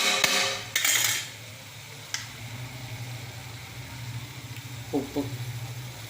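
Coriander and mint thuvayal stirred in a pan, with a couple of sharp spoon clinks and scrapes against metal early on, then soft stirring over a steady low hum, close and moderate.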